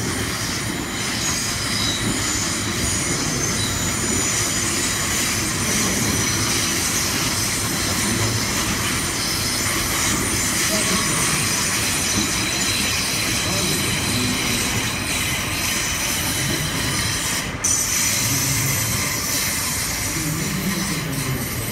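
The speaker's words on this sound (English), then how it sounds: "Here comes another train." A train rumbles steadily past at close range on a super-elevated curve, loud and continuous, with metallic wheel squeal and hiss layered over the roar.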